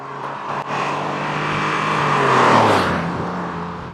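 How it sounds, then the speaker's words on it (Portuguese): A Renault Alpine A310 pulls away after a slight hesitation on the throttle, its engine note rising steadily as it accelerates and then easing off toward the end. "Há uma leve hesitação ao pisar no acelerador, depois ele arranca"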